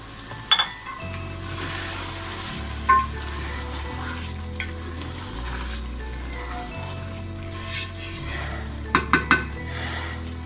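Cream goes into a pan of chicken frying on the stove for methi malai chicken, bringing a steady sizzle and bubbling with occasional sharp clinks of a utensil against the pan over low background music.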